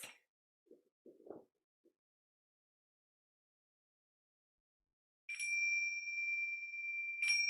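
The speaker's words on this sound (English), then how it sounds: "begin and end with bells." Meditation bell rings twice near the end, each a clear sustained metallic tone with a long ringing decay, after a few faint soft thumps and near silence.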